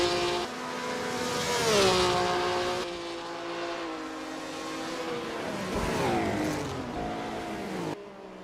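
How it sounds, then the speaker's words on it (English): Maserati 250F 12-cylinder race car in Assetto Corsa, a loud engine wailing up and down through the revs, pitch climbing and dropping with gear changes, a brief tire squeal, racing alone without voices. "They're getting a real taste of the Maserati 250F 12 cylinders capabilities"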